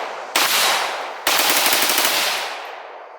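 KS47 rifle with an echo trigger fired rapidly outdoors, two dense loud bursts of shots in quick succession, each ringing out and fading with echo.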